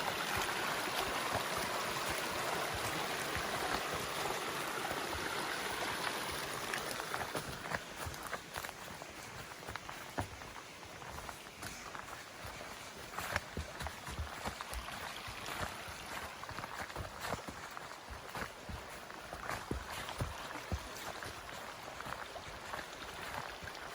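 Creek water running beside a hiking track in southern Tasmania, a constant broadband rushing flow, with crunching footsteps on the trail becoming prominent midway through and continuing under the water noise; no speech.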